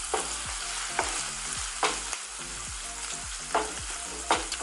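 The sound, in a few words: stirring pepper steak browning in a pan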